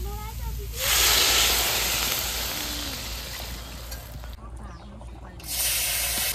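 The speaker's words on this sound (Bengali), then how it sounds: "কচু ভাজা হয়ে গেছে, এবার জল দিয়ে দেবো" Water poured into a pan of frying taro (kochu) sets off a loud, sudden hiss and sizzle that fades slowly and then flares again, with a voice faintly in the background.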